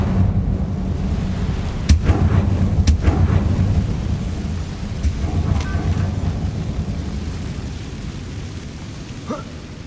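An Incendio fire spell cast in Hogwarts Legacy produces a deep, rumbling whoosh of flame with a few sharp cracks near the start, loud and sustained for about ten seconds.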